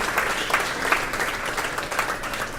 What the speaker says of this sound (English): Please, round of applause for the Friends of Figma community based out of Bangalore.